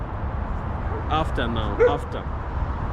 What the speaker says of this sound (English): That's a dog there,